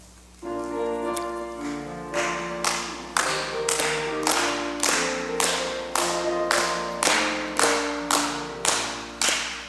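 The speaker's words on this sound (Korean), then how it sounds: "찬송가 268장 박수하면서 찬양하겠습니다." Steady rhythmic hand claps from a church congregation at an early-morning prayer service, keeping a regular beat as they sing a hymn about freedom from sin through the blood, with sustained singing voices and accompaniment throughout.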